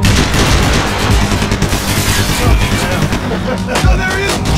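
Gunfire in Max Payne 3, loud and continuous with heavy booming shots and rapid bursts layered together throughout, a few sharper blasts standing out near the end.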